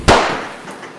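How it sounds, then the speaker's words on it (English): A single loud gunshot cracks at close range, followed by a short decaying echo. "Was that really a gunshot?"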